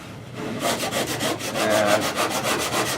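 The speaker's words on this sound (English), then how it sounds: "I also use my heavy grit sandpaper to start smoothing them out." Heavy-grit sandpaper rubbed steadily over a wooden snow snake, a loud, close rasping in quick back-and-forth strokes that repeat rhythmically for the whole stretch.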